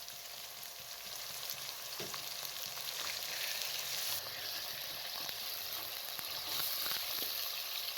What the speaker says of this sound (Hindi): जब हल्का सा प्याज नरम हो जाए तो इसके अंदर कीमे को डाल दें।